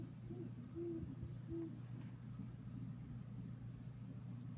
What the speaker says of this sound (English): And it sounds like buku owls.